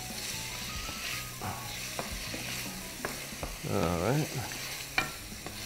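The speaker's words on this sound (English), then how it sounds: "Breaking down the tomatoes probably takes a good 5 or 6 minutes, but we'll just kind of hang with it." Tomatoes fry and sizzle in a pan while being stirred, with a steady close-up sizzle under scraping stir strokes and a louder burst of frying midway; a voice speaks briefly.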